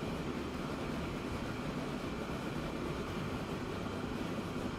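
A passenger train rolls past in the railway simulation game Transport Fever 2, producing a steady, even rumble of wheels and carriages with no speech.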